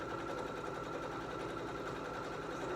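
A sewing machine runs continuously while stitching fabric, giving a steady, close, even mechanical whir with a fast regular pulse throughout.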